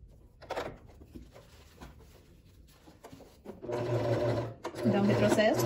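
A sewing machine stitches synthetic fabric, including a short backstitch. It starts quietly with a few handling knocks, then runs in a steady, close mechanical hum during the second half, briefly pausing before resuming.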